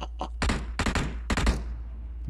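Bursts of gunfire from PUBG Mobile, several sharp shot clusters in quick succession at close range, with a faint voice underneath.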